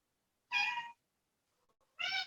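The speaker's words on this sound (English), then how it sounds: "This is Yoga Cat Gypsy" A cat meows twice, clear and close, two separate drawn-out calls with a pause between them in an otherwise quiet room.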